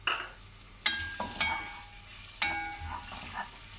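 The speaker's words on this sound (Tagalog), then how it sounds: "Halo-haloin lang ang maluto." Chicken adobo with ginger frying in a pan, a soft sizzle broken by a few sharp clanks and scrapes of a utensil stirring against the metal, no talking.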